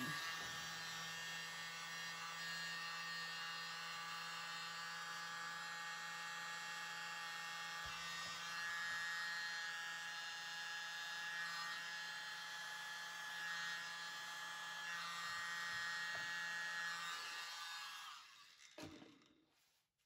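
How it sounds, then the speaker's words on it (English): A small electric blower whines steadily over a paint-pour Christmas ornament, a faint, continuous high-pitched motor hum with a fixed tone that runs unbroken before cutting off near the end. "I think I'll use my little blower."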